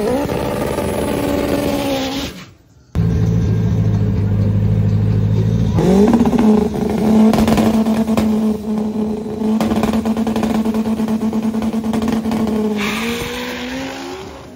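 A fast 4x4 pickup truck in Jalisco racing revs hard, its engine tone climbing and holding in loud, sustained pulls with a brief drop between bursts, heard close and dominant.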